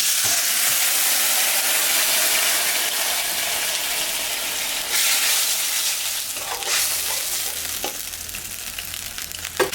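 Ginger, cumin and chilli paste sizzles and fries steadily in a pan for a fish curry, a continuous loud crackling hiss with occasional stirring scrapes, no talk.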